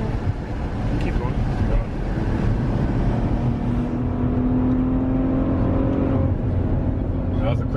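A Maserati Levante SUV accelerating hard up to 90 mph on a road in Mexico, a steady engine drone with a rising whine as speed climbs, road and wind noise throughout.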